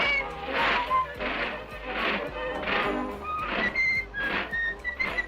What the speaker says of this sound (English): I've heard this whistle before